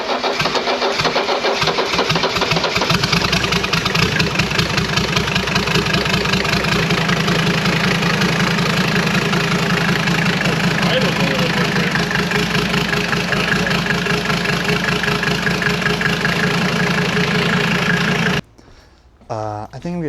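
A Mercedes 300D diesel engine with a misfire runs steadily and loudly up close, a continuous clattering drone that holds for about eighteen seconds before cutting out abruptly, followed by brief quieter shuffling.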